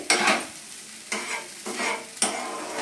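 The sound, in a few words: continuously stirring pointed gourd mash in a wok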